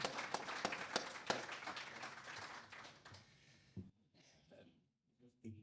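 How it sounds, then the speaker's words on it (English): A symposium audience on healthy aging and the family history community breaks into a burst of applause that thins out after a few seconds, leaving scattered claps and faint room noise. "Can I get a round of applause for these guys?"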